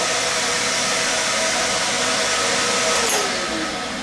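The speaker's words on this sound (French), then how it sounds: "pour préparer la meule avant d'aiguiser, on pèse sur dressing, pour mettre la meule en rotation" A steady, loud whirring roar of a spinning grinding wheel on a skate sharpener, being dressed before sharpening, runs throughout, with a faint rising whine near the end.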